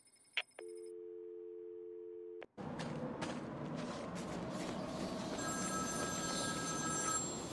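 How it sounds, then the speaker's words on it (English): A telephone in the Batman Arkham City video game rings with a steady electronic tone that stops abruptly, then gives way to a noisy ambient rumble with faint high whines, no voices. "There's a phone ringing somewhere."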